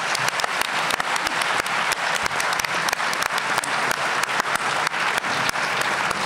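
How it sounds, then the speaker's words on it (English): A theater audience at a mayoral forum applauds with dense, continuous clapping that stays loud and even throughout. "Let's give them a quick round of applause."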